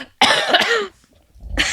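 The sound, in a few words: coughing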